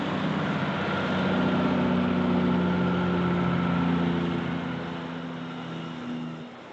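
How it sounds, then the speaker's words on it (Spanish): A tractor-trailer's engine brake lets out a steady, loud rumbling drone close by, holding for several seconds before fading slightly at the end, with no voices. "Esto se llama freno de motor"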